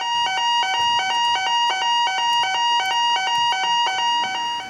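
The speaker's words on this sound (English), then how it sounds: "In the event of a fire or evacuation, you will hear this alarm." A fire and evacuation alarm at Centrica Energy's Langage Power Station in Devon sounds loud and close: a rapid, steady train of shrill electronic tone pulses repeating without pause, with no voices.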